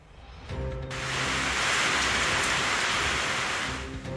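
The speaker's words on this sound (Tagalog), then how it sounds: "Umula sa ilang bahagi ng bansa kahapon." Rain falls in a sudden shower in the Philippines, a dense, steady hiss that swells quickly and holds loud and close, over a soft musical tone.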